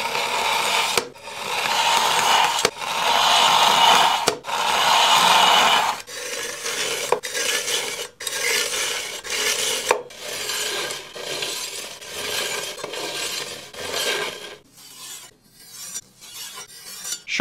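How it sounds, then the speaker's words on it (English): A thick Chinese cleaver drawn repeatedly across the stone of an angle-adjustable knife sharpener set to 18 degrees, loud close rasping strokes in a steady back-and-forth rhythm, longer sweeps first and then quicker, shorter passes. "Let's sharpen it with the Pro Edge Angle Adjustable Knife Sharpener. Thick Chinese cleaver, 18 degrees."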